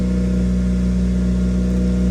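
A Mazda Miata engine idling steadily, a loud, close, even drone with a low constant hum and no change in pitch.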